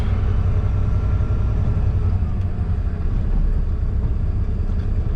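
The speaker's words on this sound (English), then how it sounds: "Motor grader is dropped off" A motor grader's diesel engine idles at a road construction site, a dense, steady low rumble that fills the scene evenly and continuously without pauses or speech.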